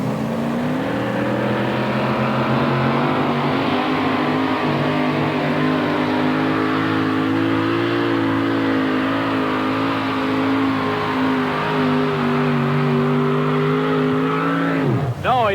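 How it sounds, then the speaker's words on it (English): A 4WD pulling truck's 700-plus cubic inch engine roars at a truck pulling event, a loud sustained rising rev with a deep droning tone held for over ten seconds before a sudden change at the end. "another 700-plus cubic inch engine"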